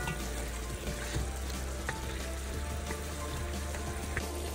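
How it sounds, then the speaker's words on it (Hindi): Mutton with yogurt and spices fries in a pan, giving a continuous dense sizzle and crackle with scattered pops, steady and close throughout. "गोश्त बहुत अच्छी तरह से भुन के रेडी हो गया है"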